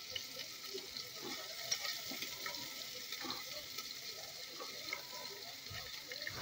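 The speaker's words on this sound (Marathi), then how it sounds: "आता मी कांदे चांगल्यापैकी परतून घेणार आहे" Onions, cumin seeds and slit green chillies sizzle steadily in a hot pan while being stirred, a constant hissing fry with occasional soft scraping throughout, no voices.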